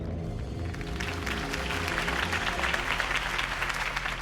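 Crowd applause after Harvey Dent's campaign speech in the Batman Telltale video game, a dense, steady roar of clapping that swells slightly and holds for several seconds over a low, rumbling musical bed.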